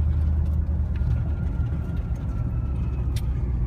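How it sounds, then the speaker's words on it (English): Cammed, Kenne Bell 3.6-supercharged Dodge Challenger SRT8 idling, a deep steady rumble close by with a slightly uneven lope and faint whine over it. "You definitely tell it's got a cam in it when you hear it."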